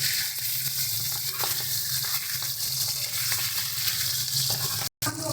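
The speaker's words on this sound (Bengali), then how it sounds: "সুন্দর করে উল্টে পাল্টে মাছগুলো দিয়ে আমরা ভেজে দেবো।" Pomfret fish sizzling loudly in frying oil as the pieces are turned, with a continuous crackle and soft stirring scrapes, then a brief moment of silence near the end.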